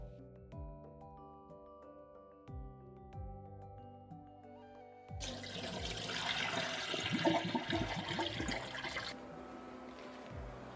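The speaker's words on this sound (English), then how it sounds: "I'm going to carefully wash it thoroughly now" Glutinous rice for Indonesian lemper is washed in water, giving a rushing, sloshing water sound for about four seconds after a stretch of soft plucked musical notes.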